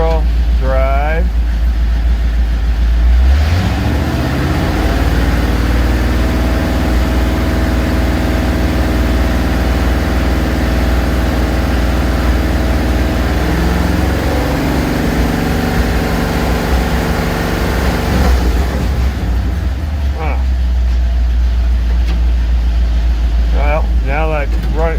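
A car engine runs steadily while the transmission is shifted through neutral, drive, first and second, its drone rising and falling in pitch under a voice.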